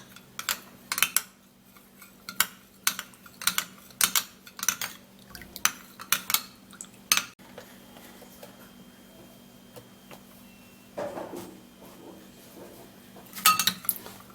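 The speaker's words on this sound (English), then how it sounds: "Give it a stir." A metal spoon stirs honey into milk, giving a run of sharp clinks and scrapes against the cup in an irregular rhythm, close and fairly clear, with a quieter stretch before a final few taps.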